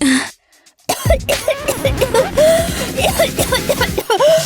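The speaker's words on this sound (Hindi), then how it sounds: "खांसना बंद करो, तुम सबको बीमार कर दोगी।" A person coughs several times in a rough, throaty burst after a short pause, with bits of voice mixed in.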